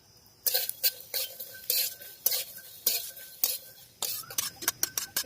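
Black cumin, garlic and green chili dry-roasting in a dry pan, with sharp, regular scrapes and clinks of a spatula against the metal, close and clear, speeding up toward the end.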